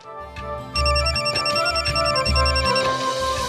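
A phone ringtone plays loudly and continuously, a repeating electronic melody with steady pulsing beats, close by and with no voices.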